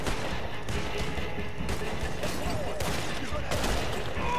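Gunfire from the Red Dead Redemption 2 game: a dense, continuous fusillade of overlapping shots with crashing, rumbling low end, loud and steady throughout without clear breaks.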